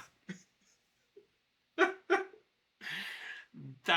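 A few scattered dog barks and whimpers play from a movie, the pirate adventure Cutthroat Island, as short separated bursts amid near silence, with a breathy gasp and a brief voice near the end.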